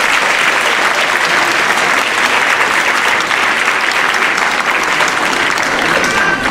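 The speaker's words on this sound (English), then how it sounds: "Let's give them one more round of applause." Loud, sustained applause from a school concert audience for a middle school concert band, a dense steady wash of many hands clapping throughout with no speech.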